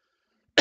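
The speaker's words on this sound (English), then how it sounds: "Let me clear my throat." A single short, harsh throat clearing bursts out abruptly after near silence, close and loud.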